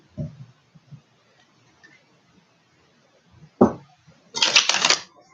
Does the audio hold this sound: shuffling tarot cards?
yes